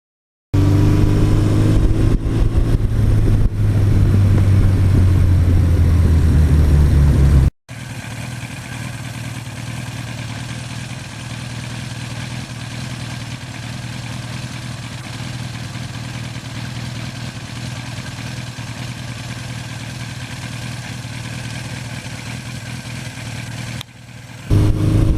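A 1982 Suzuki GS1100E motorcycle engine runs at a steady idle, loud and close, with a higher rev at the start before settling into an even, continuous drone.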